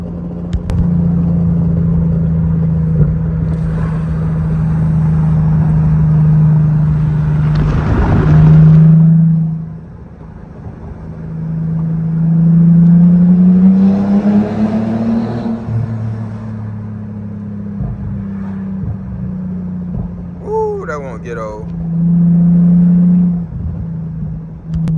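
A Mercedes W210 sedan's engine drones steadily up close while driving at night in a city, with several swells of revving and acceleration over a constant low rumble.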